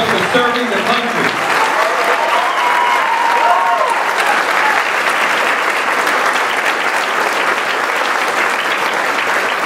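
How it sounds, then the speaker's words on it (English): Audience at a graduation dinner applauds a group of soldiers, a dense, steady wash of clapping that holds loud and unbroken throughout, with a few voices briefly audible near the start. "let's give this group a round of applause for serving the country"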